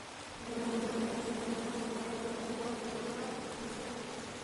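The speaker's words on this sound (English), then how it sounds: "you chop down the tree full of angry bees" Angry bees in the King's Quest video game give off a faint, steady droning buzz that swells in after a moment and holds evenly, alone without voices.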